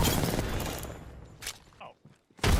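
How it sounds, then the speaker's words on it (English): Bursts of gunfire from enemies in the Apex Legends video game, a loud rattling volley at the start, then short separate shots and impacts with gaps between, ending on another sharp burst. "They're shooting at me."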